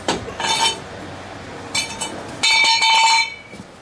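On a Chevy Silverado K2500, a cheater bar on a wrench works loose a ball joint nut, giving a few bright metallic clanks and ringing clinks in separate bursts close by.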